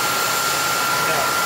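A Shizuoka CNC vertical machining center spindle runs at speed, giving a smooth, steady high whine and airy hum that stays even and close throughout.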